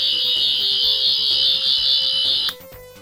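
Doctor Who 14th Doctor sonic screwdriver toy on its red setting gives a loud, steady high-pitched whirring tone with a pulsing undertone that cuts off sharply near the end.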